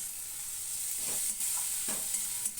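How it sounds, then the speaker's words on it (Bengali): Spice paste with red chilli powder, Kashmiri chilli powder, a little water and chopped tomatoes frying in a pan, a steady close sizzle with a couple of stirring scrapes cutting through. "ভালো করে কষিয়ে নিতে হবে মশলাটা"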